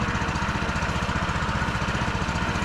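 Tractor engine on a T-18, running in second gear at medium throttle while driving through autumn mud, a steady, close, throbbing mechanical drone with a rapid regular knocking pulse and no talking.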